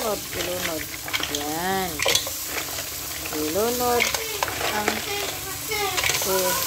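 Mussels and tomatoes stirred in a hot pan, a steady sizzle and fry with scraping stir strokes throughout, while a voice talks intermittently in the background.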